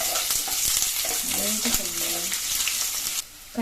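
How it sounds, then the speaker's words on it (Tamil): Chopped onions drop into hot oil with mustard seeds and green chilli, setting off a loud, steady sizzle and frying crackle that fills the whole moment, with brief stirring scrapes and a short quieter dip near the end. "கட் பண்ணி வச்சுருக்க வெங்காயம் போட்டுக்கிறேன்"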